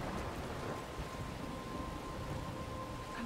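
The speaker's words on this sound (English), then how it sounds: "I'm trapped in a storm." A thunderstorm in the video game Life Is Strange, with steady rain hissing and a low rumble underneath, continuous and even, plus a faint sustained tone running through it.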